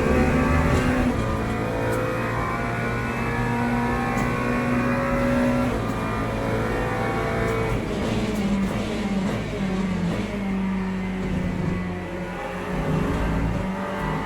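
A GT3 race car at full throttle around Monza in Le Mans Ultimate, its engine a steady, loud, continuous drone with pitch shifts through gear changes, no voices.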